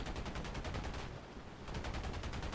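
Browning machine guns on a P-51D Mustang fire in the air-combat game War Thunder, loud rapid bursts that pause briefly midway and then resume.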